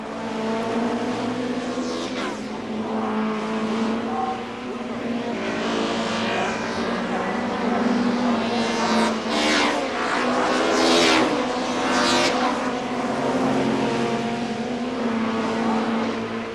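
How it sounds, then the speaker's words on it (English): Four-wheel-drive Audi race car lapping a racetrack in competition, its engine roaring loudly and steadily throughout with rising revs and other cars passing close by, no talk. "Audi has also introduced a 4-wheel drive car to a racetrack for the first time."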